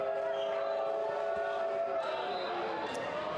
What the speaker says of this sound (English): it's gone up a notch, hasn't it? Again, the crowd getting involved.